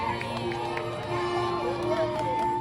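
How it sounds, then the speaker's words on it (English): A festive crowd at LEGOLAND Windsor's Holiday Harbour Christmas lights show cheers gleefully, a continuous dense wash of voices with tonal music or chimes running through it. "the crowd cheers with glee"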